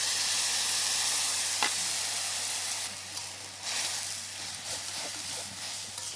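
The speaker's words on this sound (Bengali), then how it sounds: "পুরো মশলাটাকে ভালোভাবে নাড়াচাড়া করব" Chili, tomato and soy sauce masala with a little water sizzles in a pan for a carrot Chinese-style dish, a steady close hiss broken by soft stirring scrapes and one sharp tap, with no talking.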